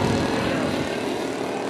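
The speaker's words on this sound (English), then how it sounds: "That looks like a precarious plane to fly." A quarter-scale 1912 Blackburn Monoplane model aircraft flying, its propeller engine giving a loud, steady buzzing drone that fills the whole stretch with no talk.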